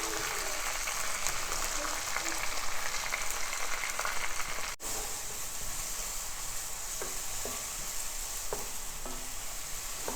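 Ginger, garlic and green chili paste sizzles in a pressure cooker while chicken biryani is being made, a dense steady frying hiss with a brief break partway and a few light clinks afterward.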